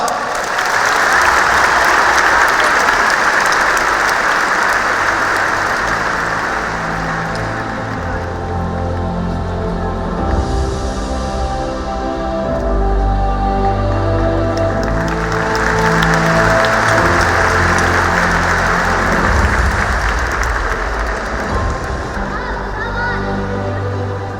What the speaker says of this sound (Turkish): sahneye davet ediyoruz alkışlarınızla